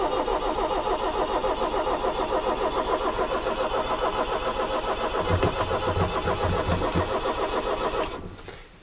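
A car engine with a leaking head gasket cranks steadily in a fast rhythmic churn for about eight seconds, struggling to catch, then dies away abruptly at the end.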